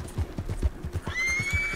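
A horse in Red Dead Redemption 2 trots with rhythmic hoof clip-clops, then lets out a loud, close whinny.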